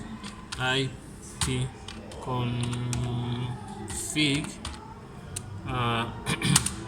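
Keys on a computer keyboard are clicked to type the ipconfig command at a command prompt. Scattered keystrokes sound close by under someone talking.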